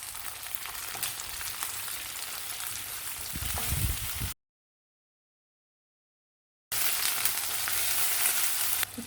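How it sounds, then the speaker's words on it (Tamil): Onions, curry leaves and tomatoes sauté in hot oil for an aubergine masala, giving a steady close sizzle with a brief louder burst of stirring before the sound cuts out entirely for a couple of seconds, then the frying resumes. "கருவேப்பிலை, வெங்காயம் வதங்கியதும் தக்காளி சேர்த்து வதக்கலாம்."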